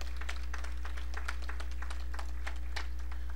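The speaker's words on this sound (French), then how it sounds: "On nous applaudit conférencier pour la gloire de Dieu." Conference audience at a Sunday school gathering applauding the speaker, a dense, steady patter of many hands clapping with a constant low hum underneath, moderately loud.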